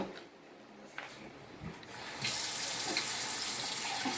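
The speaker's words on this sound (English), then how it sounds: "I'm going to add a little more water because I like it a little thinner." Water runs from a tap while preparing batter for Puerto Rican cod fritters, bacalaitos, a close, steady hiss of flow that swells loudly partway through.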